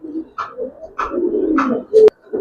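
Caged pigeons cooing in close, soft repeated calls about half a second apart, followed by a brief sharp click near the end.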